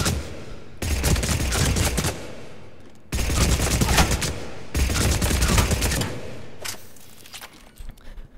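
A Blood Pack Punisher gun in Mass Effect 3 fires scoped at point blank in three long rattling bursts of rapid shots, loud and close, with short pauses between bursts.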